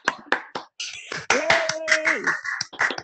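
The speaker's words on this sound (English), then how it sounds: "So we could just give a little clap for Dr. Jenkins." A small audience at a city council meeting in Richfield gives a brief, scattered clap, a handful of separate claps mixed with a voice and a short cheer.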